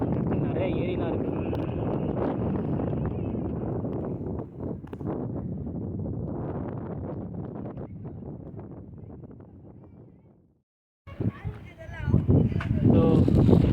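Steady wind rushing and buffeting against the microphone at Gingee Fort, Tamil Nadu, loud and continuous, with a brief drop to near silence before gusts return.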